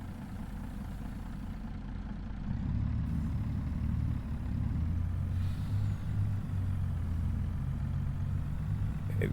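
Deep, steady rumble of heavy logging truck engines idling and straining while reversing in a video game, with a low drone swelling slightly partway through and a brief hiss near the end.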